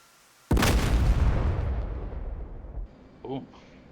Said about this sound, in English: I don't want to miss the explosion.